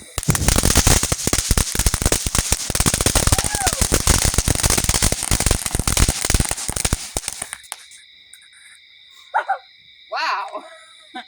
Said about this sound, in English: Alright, here goes our first firecracker.